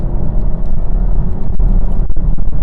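A 2021 Chevrolet Camaro 1LT with the 2.0 engine and 8-speed gearbox accelerates at full throttle, a loud, continuous low engine rumble heard from inside the car.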